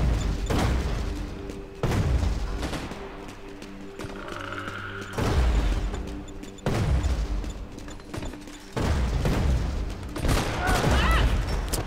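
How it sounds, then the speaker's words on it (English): Grenade launcher blasts and gunfire boom repeatedly in Max Payne 3 multiplayer, arriving in sharp bursts roughly every couple of seconds amid a busy firefight. "Oh my god, damn grenade launchers"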